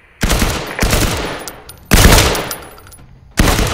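Bursts of rapid gunfire at a target in the VR game Firewall Zero Hour, with four loud, close volleys of shots, each ringing briefly before cutting off, and no talking.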